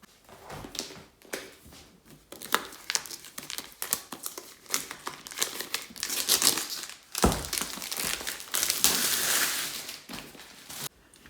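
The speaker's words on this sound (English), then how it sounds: "So let's get the cellophane off." Cellophane wrapping is pulled off a Diamond Art Club diamond painting kit, close crinkling and tearing in irregular bursts throughout, growing louder toward the end.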